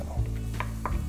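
Celery hitting a hot pan with onion over a lively flame in an Italian pasta and potato dish, a steady close sizzle with brief stirring scrapes, no voices.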